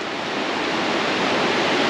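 Steady broadband rush of a creek pouring down a rapid into the Middle Fork of the Salmon River, a dense, continuous roar with no breaks, close and loud throughout.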